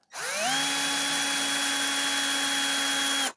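A power tool unscrewing a nut on an ARX540 motorcycle, spinning up quickly to a loud, steady high whine that holds for about three seconds and then cuts off.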